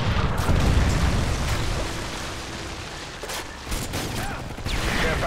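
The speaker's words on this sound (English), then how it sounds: "Missile inbound." A missile explosion in Modern Warfare 3 multiplayer rumbles as a dense, sustained roar of blasts and crackling debris, loud at the start, dipping briefly, then swelling again.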